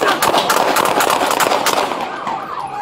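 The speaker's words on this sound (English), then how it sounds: "Shots fired." Police gunfire during a traffic confrontation with a machete-wielding man rings out as a loud, rapid burst of sharp cracks close by, followed by a fading echo.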